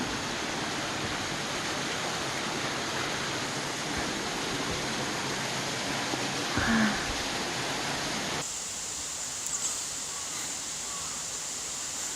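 Steady, dense rush of Biryong Falls on Samaksan, Chuncheon, in winter, roars throughout, a constant broadband wash with no pauses, slightly dropping in level near the end.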